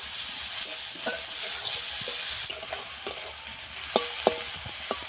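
Onions frying in a pan for a spicy chicken dish, sizzling steadily and close, with occasional scraping and clinking stirs of a utensil against the pan, and no talking.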